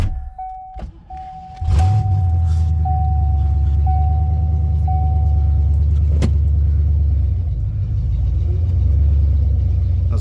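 A Ford Thunderbird with an AOD transmission fault is cranked over after a warning chime beeps, then the engine catches and settles into a loud, steady low rumble that runs to the end.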